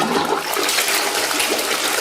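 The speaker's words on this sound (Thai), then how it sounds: "แค่เรากดชักโครกค่ะ" A toilet flushing in a home bathroom, a loud steady rush of water lasting throughout with no voices.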